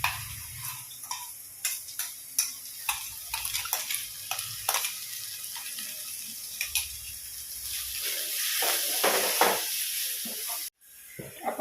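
Ginger, green chili and garlic paste frying with onions in a pan for a home lunch, a steady soft sizzle broken by repeated sharp ticks of a spoon stirring against the vessel, close and moderately loud, with no talking.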